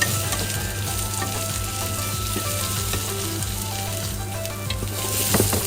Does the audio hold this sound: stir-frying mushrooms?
yes